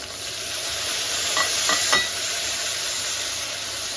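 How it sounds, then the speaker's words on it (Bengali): Spiced masala frying in oil with a splash of water gives a steady, close hiss and sizzle, with a few soft stirring scrapes near the middle. "আস্তে আস্তে মশলাটাকে কষাতে থাকবে।"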